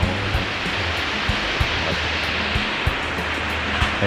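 Heavy rain pours steadily outside a house, a dense continuous hiss with no pauses and a few faint knocks underneath.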